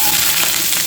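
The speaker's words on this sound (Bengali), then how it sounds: "তো যতটা তেল লাগবে একবারেই দিয়ে দেবো। পেঁয়াজটা দিয়ে দিলাম আমি," Onion frying in oil in a pan gives a short, loud, steady sizzle with faint crackle. No voices are heard.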